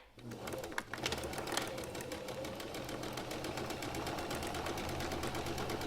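A sewing machine stitches along the edges of a fabric face mask in black thread, a close, steady, rapid mechanical rattle that holds an even pace throughout.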